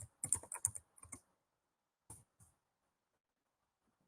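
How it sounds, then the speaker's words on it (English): Someone types on a computer keyboard: a quick burst of clustered keystrokes, then a few isolated clicks separated by quiet pauses, close and fairly soft. "now we're going to type in North"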